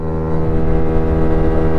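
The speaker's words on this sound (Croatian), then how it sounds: "Koliko je zanimljivo držati pun gas ovo vreme." A scooter engine held at full throttle during urban riding, a loud, steady droning whine with dense harmonics that stays level and close throughout, without talk.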